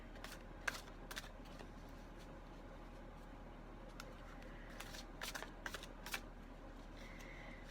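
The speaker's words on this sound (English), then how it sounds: "I'm shuffling these a little bit longer than usual." A deck of tarot cards is shuffled by hand in a quiet room, giving soft, irregular riffling and flicking sounds close to the microphone.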